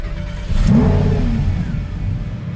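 A Lamborghini Huracan engine fires up via its start button and revs briefly, a loud close burst that settles into a steady idle.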